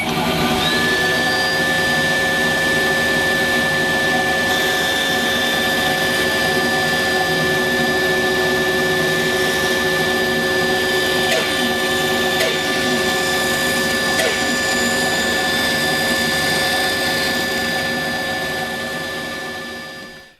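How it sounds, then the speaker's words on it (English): A bandsaw runs and cuts through wood, giving a steady, loud motor whine and blade hum that holds for about twenty seconds before tailing off at the end, with no talking. "So I'll start the machine and we'll try that."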